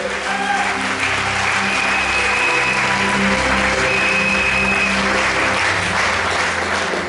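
A church congregation at a Sunday worship service applauds loudly and continuously throughout, a dense, even wall of clapping with faint cheering mixed in.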